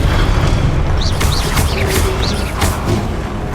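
Expelliarmus disarming spell impacts from the Hogwarts Legacy video game, heavy booming hits and whooshing bursts over a dense, continuous rumble of combat, loud and close.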